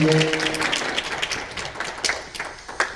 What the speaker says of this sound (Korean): 우리 박수를 한번 할까요?